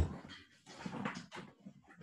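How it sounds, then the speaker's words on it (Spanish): Small dogs bark and whimper faintly outside a window, muffled and distant, in short irregular bursts over a quiet room. "hay unos perritos que están aquí ladre y ladre"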